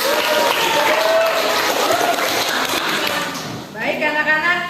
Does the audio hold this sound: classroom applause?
yes